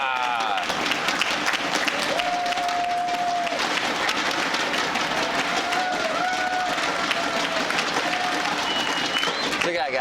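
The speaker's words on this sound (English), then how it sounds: "big round of applause to Red Bull Day 9" Crowd applause and cheering at a League of Legends esports grand finals match, a dense continuous roar of clapping from a large audience, with a voice speaking over it and occasional whistle-like tones.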